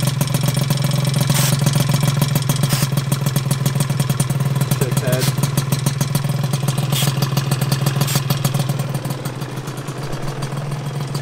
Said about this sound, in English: I'm letting it warm up.